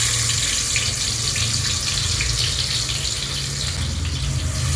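Chopped onion dropped into hot ghee and oil in a pot, a continuous loud hissing sizzle that holds steady throughout.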